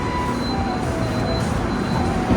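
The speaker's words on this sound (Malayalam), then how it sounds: "അങ്ങനെ അതാ ട്രെയിൻ എടുത്തു അവരെങ്ങനെ പോവാണ്" A passenger train pulls out of a station with a steady low rumble of wheels and carriages, faint high squeals threading through, heard from nearby on the platform.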